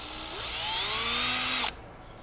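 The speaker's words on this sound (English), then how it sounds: "I'm gonna just drill out these 2." A power drill bores through a license plate mount on a 2025 Honda Grom, one close, loud whine rising in pitch for under two seconds before cutting off abruptly.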